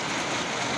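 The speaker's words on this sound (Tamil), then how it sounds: "மழை பெஞ்சிக்கிட்டே தான் இருக்குது." Steady rain keeps falling outside a bakery shopfront, a dense even hiss of drops on surfaces filling the short stretch with no voices.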